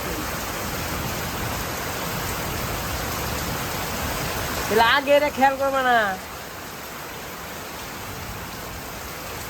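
Steady rain falling outdoors at night after a storm, a constant broadband hiss throughout, with a voice briefly speaking over it midway.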